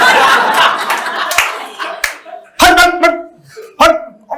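A stand-up comedian imitates street dogs with a loud, rapid run of barks and yips on stage, following crowd applause and laughter, each vocal bark sharp and punchy.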